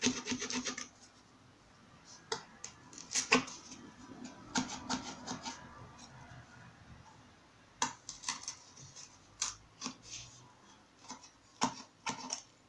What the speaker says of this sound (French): on prend son pic et on vient percer